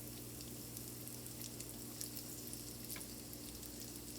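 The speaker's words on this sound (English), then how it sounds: "I'm going to drop that one in the grease." Appetizers frying in hot grease, giving a continuous close sizzle with scattered crackling pops over a low steady hum.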